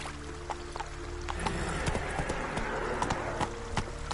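Roach the horse trots in The Witcher 3, a steady run of close clip-clop hoofbeats with a brief whinny, over a continuous low game background hum.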